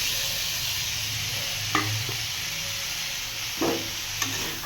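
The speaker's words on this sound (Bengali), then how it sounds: "এখনো ভাজা হয়নি তো পেঁয়াজটা দিয়ে দিয়েছি" Onion frying together with broccoli stems in a pan gives a steady sizzle, and a few short stirring scrapes come through near the middle and end.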